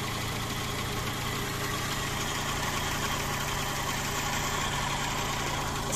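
Land Rover engine with a Voltarent ignition setup idling calmly and evenly at steady revs, a close, constant low rumble with no other sounds.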